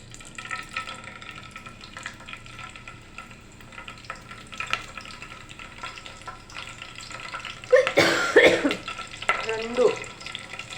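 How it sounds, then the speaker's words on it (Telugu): Curry leaves dropped into hot oil in a home kitchen, a soft sizzle that flares up loudly for a couple of seconds before settling back down. "నేనైతే ఫస్ట్ కరివేపాకు వేస్తా"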